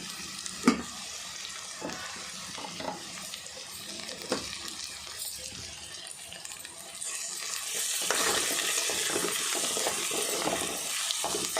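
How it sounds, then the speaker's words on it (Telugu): Ginger garlic paste frying with onions in a pan, a soft close sizzle under occasional stirring clinks and scrapes that grows louder and hissier near the end, with no talk. "అల్లం వెల్లుల్లి పేస్ట్ కూడా ఉల్లిపాయలతో పాటు వేగనిద్దాం"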